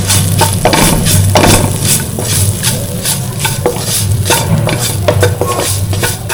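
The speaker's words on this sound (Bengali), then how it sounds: "পেঁয়াজ থেকে বেশি সেই তেলে মাথা পুরো ভেজে" Mola fish heads frying in oil left from onions, a steady loud sizzle with scraping stirs and clinks of a utensil against the pan throughout.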